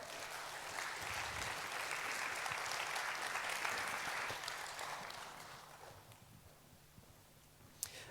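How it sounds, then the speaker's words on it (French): Audience applause at a public lecture on quantum physics, a sustained dense clapping that holds steady for several seconds, then gradually thins and fades toward the end. "On peut les applaudir très fort."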